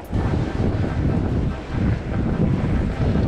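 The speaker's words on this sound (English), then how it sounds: "it's kind of windy" Strong wind buffets the microphone along a flat trail used for skijoring and fat biking in Alaska, a loud continuous roar that dips briefly midway before surging again.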